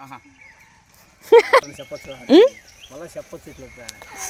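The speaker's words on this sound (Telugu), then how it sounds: "ఎన్ని గొర్రెలు ఉన్నాయి అబ్బా" Sheep in a village flock let out a few loud, wavering bleats close by, with a couple of short calls followed by a longer one, and people talk faintly in the background.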